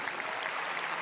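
A brief burst of dense applause from a church congregation during a sermon, a steady wash of clapping with no voices.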